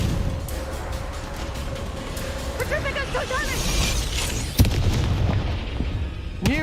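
In the Hogwarts Legacy video game, the Confringo blasting spell lets off a sharp explosive burst amid layered combat effects and magical whooshes, with a character's voice heard briefly over the battle din.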